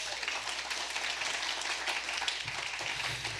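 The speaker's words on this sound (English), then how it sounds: "Let's give him a round of applause," Audience applause at an awards ceremony for a short story contest in Little Tokyo, a steady, fairly faint wash of many hands clapping that holds evenly throughout.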